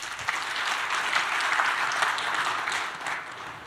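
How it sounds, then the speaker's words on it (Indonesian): Audience applause at an Indonesian gathering on flood and land subsidence along the northern Java coast, a dense steady clapping from a crowd that holds for the whole stretch, loud and close, with no voices over it. "tepuk tangan untuk semuanya"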